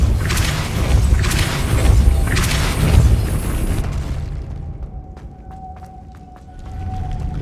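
A Depulso spell in Hogwarts Legacy hits with a deep, booming rumble that swells for several seconds. Quieter ticking, a thin lingering tone and a low surge near the end follow.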